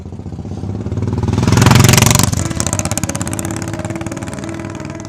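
A Royal Enfield Bullet motorcycle in Old Delhi idles with a steady, rapid thumping beat, swells briefly into a louder rev partway through, then drops back to a close, even idle.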